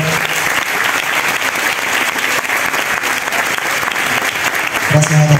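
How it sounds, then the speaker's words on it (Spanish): An outdoor festival concert audience applauds the pianist in a loud, continuous burst of clapping, with a voice and music starting up at the end. "voy a pedir un aplauso antes de cantar nuestro último tema a el pianista"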